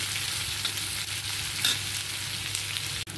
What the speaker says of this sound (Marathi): हा कांदा पण आपल्याला लालसर होईपर्यंत परतून घ्यायचा आहे